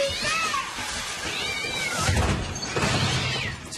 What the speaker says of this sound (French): C'est un joli petit chat.